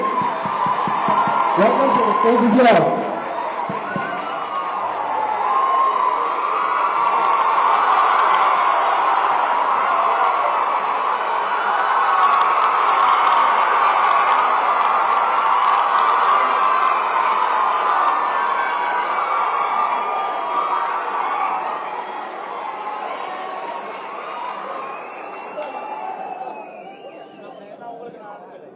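A large crowd cheers and applauds at a memorial day ceremony attended by the Tamil Nadu Governor, a broad roar rising after a loud burst near the start, with an announcer speaking over it before it tapers off.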